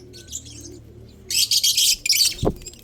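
Small birds chirp and twitter in short bright bursts, growing busier toward the end, with a soft low thump near the finish.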